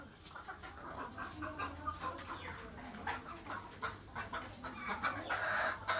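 Local free-range farm chickens cluck softly nearby in a steady, overlapping murmur, with a few sharper calls toward the end.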